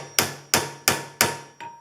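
A hammer strikes an aluminum bracket joined by brazing, four sharp metallic blows at a steady rhythm and then a weaker fifth, close and ringing with no talk.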